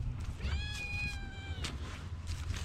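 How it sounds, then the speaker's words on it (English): A hungry cat named Granny Kitty lets out one drawn-out whiny meow, fairly close but soft, over low background rumble with no talking. "We got a whiny kitty over here that surely wants some food"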